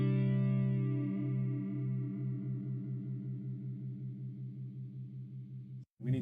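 Guitar chord through an Ibanez Prime Dual Chorus PC10 pedal in B mode, a slow, wide chorus sweep making the sustained tone pulse and swirl rhythmically as it fades, ending in a brief cutoff and a new attack.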